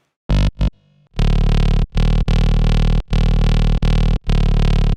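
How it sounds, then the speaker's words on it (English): A heavily overdriven Serum 2 synth bass plays sustained gritty notes in a choppy rhythm with short gaps, loud and buzzing. "Overdrive distortion"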